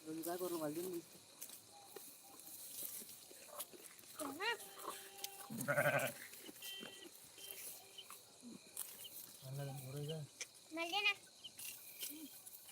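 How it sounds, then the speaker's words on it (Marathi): Goats being tied up bleat several times in short, wavering calls at moderate distance, with pauses of quiet farmyard background between them. "बघा इकडे बकरी बांधाच काम चालली"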